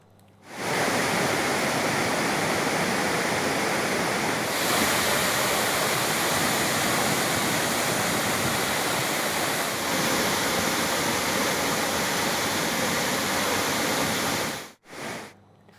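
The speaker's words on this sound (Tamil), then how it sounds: "பழைய குற்றால உள்ளிட்ட அனைத்து அருவிகளிலும் தடுப்பு கம்பிகளை தாண்டி தண்ணீர் ஆர்ப்பரித்து கொட்டுகிறது" Courtallam waterfalls in flood after rain, water gushing over the safety barriers, a dense, steady, loud roar of falling water that holds unbroken before briefly dropping out near the end.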